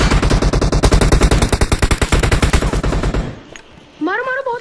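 Automatic gunfire in the video game PUBG Mobile rattles in a loud, rapid stream for about three seconds, then cuts off, and a brief sweeping electronic tone follows.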